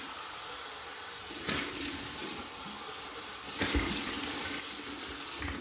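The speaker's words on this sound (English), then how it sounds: "warm water right from the tap." Warm water runs steadily from a bathroom tap into a sink for a rinse, a continuous splashing hiss with two brief louder surges, no voices.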